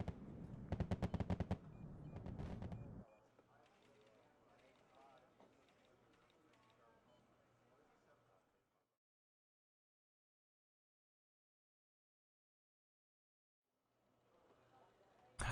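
Bursts of rapid gunfire and bombardment in a 1v1 war video game, a dense rattling volley over the first few seconds, then quieter scattered battle noise that fades to near silence before a faint return at the end.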